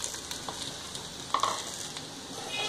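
Potatoes frying in a pan with lightly made curry, a steady close sizzle with a few sharper pops and spatters partway through, heard alone without talk.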